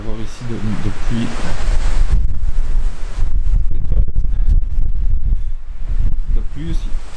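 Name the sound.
strong wind on Norwegian coast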